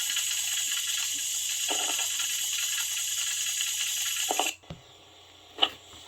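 Pressure canner weight rattling steadily on the stove while canning potatoes: a continuous hiss with fast, even rattle, fairly close and loud, stopping abruptly and then a couple of faint clicks and thumps in the quiet after.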